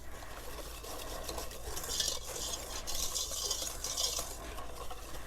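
Chocolate stout cake batter being stirred in a nonstick pan, a continuous close scraping and swishing with a rhythmic pulse and no talk.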